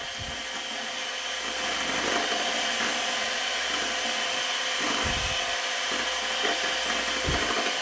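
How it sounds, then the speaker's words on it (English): An electric mixer whirs steadily while beating raspberry cream cake batter, loud and close, with its constant drone broken by a few brief dips and knocks, and no talking. "you want to beat this or mix it actually until it's smoothened"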